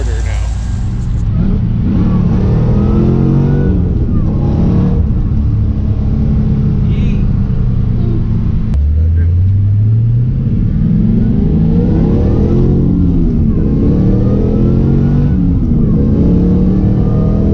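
A 2006 Pontiac GTO on a test drive, its engine roaring loud and close with revs climbing and falling through the gears under a constant rumble of road noise.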